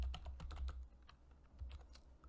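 Quick, uneven keystrokes clatter on a computer keyboard while a spreadsheet header is typed, the clicks close and distinct with short pauses between bursts.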